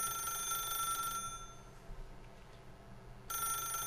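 Telephone ringing in The Stanley Parable: a steady electronic ring with bright sustained tones sounds through the start, breaks off for about two seconds into a quiet room hum, then resumes loudly and evenly near the end.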